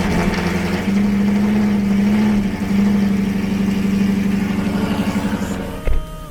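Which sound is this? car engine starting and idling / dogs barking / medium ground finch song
car engine starting and idling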